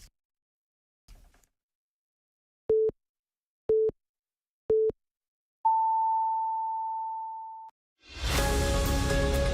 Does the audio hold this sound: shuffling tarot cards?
no